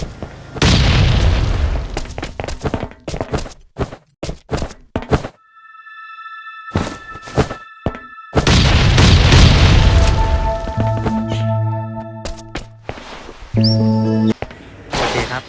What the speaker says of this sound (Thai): ข้างบนเขาระเบิดกันสนั่นเลย